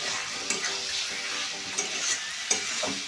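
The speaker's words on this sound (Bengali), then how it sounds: "এবারে আমি মাংসটা তুলে দেব কড়াইতে" Chicken pieces are tossed and stirred in a hot kadai for village-style chicken kosha, with a continuous close sizzle and frying hiss broken by a few scraping knocks of the spoon.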